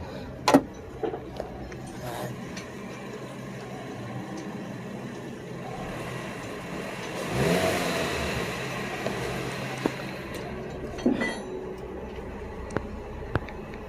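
A car with a newly replaced clutch assembly pulls away in first gear. The faint engine rises briefly midway, with scattered clicks and knocks around it.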